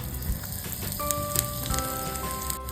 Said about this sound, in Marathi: तेल आपण पिठामध्ये टाकण्यासाठी गरम करूया हे जे आपण तेलाचे मोहन घेतले होते त्यात आपण थोडं हिंग टाकूया